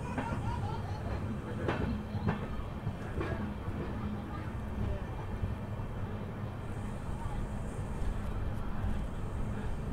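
Steady, loud rumble and rattle from inside the Bengaluru–Ernakulam Intercity Express with LHB coaches, merging onto a single-line track, with a few faint clicks over the continuous rolling noise.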